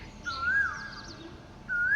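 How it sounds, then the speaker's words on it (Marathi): A bird gives two clear, sliding whistled calls, one early and one near the end, over a quiet outdoor background. "किती छान पक्षी आवाज देते बघा"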